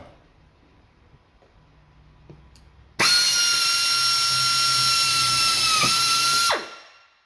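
A power drill drives a screw into a car side skirt on a 1999-2004 vehicle: after quiet handling noises, a loud steady whine runs for about three and a half seconds with a brief dip, then spins down, close up with no talking.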